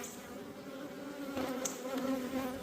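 Honeybees buzzing over brood-filled hive frames during queen cell grafting, a close, steady droning hum with tonal harmonics, swelling slightly louder midway, no voices.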